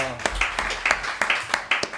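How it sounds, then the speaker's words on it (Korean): A church congregation clapping together in a steady rhythmic beat of sharp claps, close and fairly loud, with a voice briefly heard at the start. "우리 좋으신 하나님께 영광의 박수 올려드리겠습니다."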